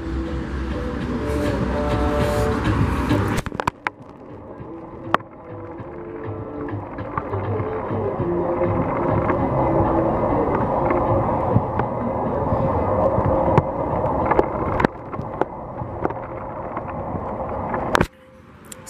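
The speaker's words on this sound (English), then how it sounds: "Look, tram. That's not a retro tram." A tram rumbles past along a street in Iași, Romania, for a long stretch, a steady low rolling noise with occasional clanks and squeals before it fades.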